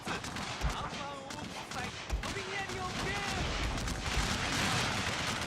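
Artillery fire in a Battle of Franklin 1864 video game: dull booms land at intervals within a continuous din of distant gunfire, with what sound like voices or game sounds running underneath.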